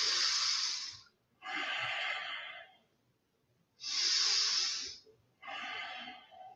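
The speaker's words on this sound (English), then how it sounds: "Two more breaths." Slow, deep breathing during a yoga twist, with four long breaths in and out, close and breathy, separated by brief silences.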